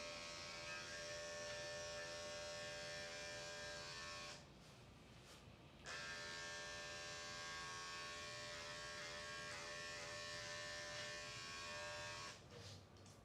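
Electric clippers with a 10 blade buzz steadily as they groom an old dog's chin and neck, a close, constant hum with a couple of brief dips as the blade meets the fur.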